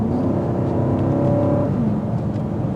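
A 2024 BMW X7 M60i SUV accelerates under steady engine drone and road noise heard from inside the cabin. The pitch rises gradually as it gathers speed, and no one speaks.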